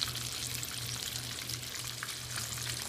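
Chicken pieces pan-fry in oil, a dense, even sizzle with fine crackling spatter held at a steady level throughout, with a faint low hum beneath and no voices.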